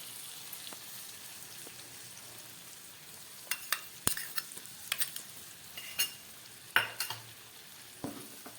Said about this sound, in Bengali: আমি আরেকটু মশলাটাকে কষিয়ে নেবো কাঁচা টমেটোগুলো মশলা দিয়ে ভেজে নেওয়া হলো